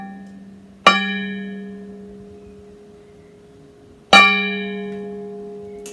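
A gong for a children's yoga relaxation session is struck twice, about three seconds apart. Each strike is a bright, shimmering hit that hangs on in a long ringing decay over a quiet background.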